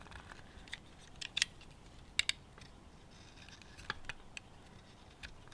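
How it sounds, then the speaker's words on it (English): Dull blade dragged across the plastic wrap of an 18650 lithium cell, giving faint scattered scratchy clicks and ticks, close by with a quiet background. "I'm just literally dragging it through the material. It doesn't even cut through the plastic that's around the cell,"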